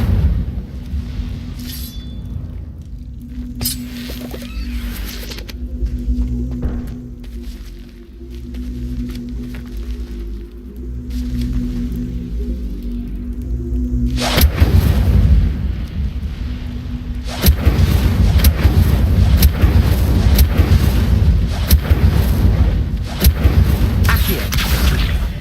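Repeated Incendio fire spell casts in Hogwarts Legacy, heavy low booming bursts with sudden louder whooshing surges, swelling to a sustained roar in the later half, no talk over it.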